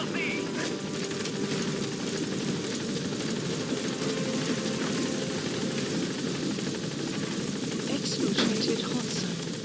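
A helicopter in Metal Gear Solid V comes in to land at a landing zone, its loud continuous rotor thrum and turbine whine filling the scene, with a voice speaking over it.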